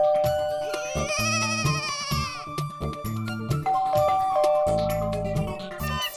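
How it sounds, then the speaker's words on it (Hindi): A doorbell rings at an apartment door in a Hindi TV sitcom: repeated chiming tones, moderately loud, layered over background music. "इसकी तो घंटी भी बज रही है।"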